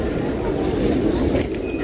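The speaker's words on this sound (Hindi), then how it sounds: "कबूतरों को उड़ाते ही रहते हैं, चाहे घर हो चाहे बाहर हो।" Pigeons cooing at Boudha Stupa in Kathmandu, a soft steady murmur of birds mixed with a continuous crowd hubbub and background chatter.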